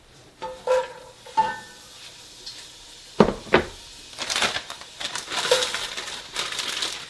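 Onions go into a pan of hot shimmering oil for black refried beans, and scattered stirring clatters lead into a rising, soft sizzle. No one speaks.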